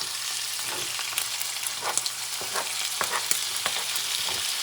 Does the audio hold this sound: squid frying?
yes